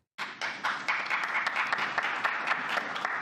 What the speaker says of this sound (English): That was 2 people clapping.